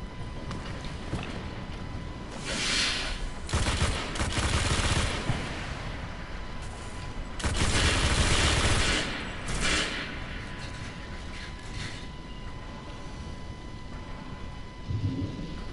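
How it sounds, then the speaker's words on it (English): Turret fire in a Destiny PvP match on the Moon, heard as bursts of heavy gunfire in several loud clusters over a steady hum of game ambience, with no talk. "Alright, let's try to use the turrets."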